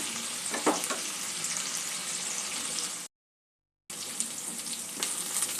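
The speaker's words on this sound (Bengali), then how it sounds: "পেঁয়াজ, আদা, টমেটো একটু ভেজে নেওয়া পর্যন্ত, একটু নরম হয়ে আসা পর্যন্ত একটু অপেক্ষা করব" Onion, ginger and tomato fry in a pan with a steady broadband sizzle, broken by a short silent gap partway through, with a few louder crackles and stirring touches, and no voices.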